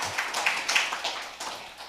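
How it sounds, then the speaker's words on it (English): A conference audience claps for the sponsors, a thin, scattered patter of hands from a fairly small crowd that fades out within a couple of seconds. "Let's clap for our sponsors."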